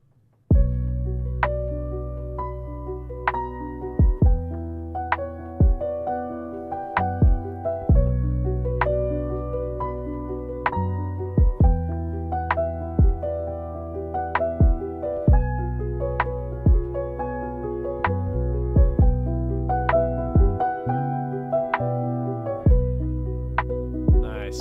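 A beat in progress with kick, snare and bass: a steady electronic groove with a sustained, pitched bass line and regularly repeating sharp hits, loud and continuous for about 25 seconds with no voices.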